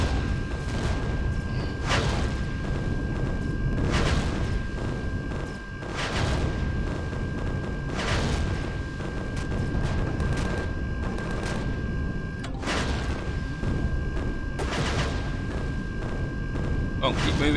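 Gunfire aimed at turrets in Empyrion Galactic Survival, repeated sharp shots and booms roughly every couple of seconds over a constant mechanical hum, with voices talking throughout.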